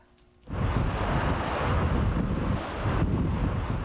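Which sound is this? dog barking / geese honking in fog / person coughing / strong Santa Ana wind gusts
strong Santa Ana wind gusts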